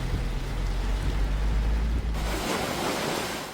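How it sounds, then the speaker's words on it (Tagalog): Heavy rain pours on Bugalian Road in Olongapo, a dense, loud, continuous hiss with a wind-like low rumble that drops away partway through, leaving a brighter steady wash of falling water. "Malakas na ulan ang bumuhos kanina sa Olongapo,"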